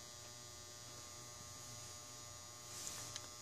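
An SJ-350A solder pot run on low voltage gives off a faint, steady electrical buzz, a thin continuous drone with a couple of small ticks near the end.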